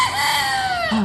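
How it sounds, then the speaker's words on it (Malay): A loud, close chicken crow rendered as one drawn-out call of just over a second, used in a preschool lesson on animal sounds, with no talk over it. "Macam mana bunyi ayam?"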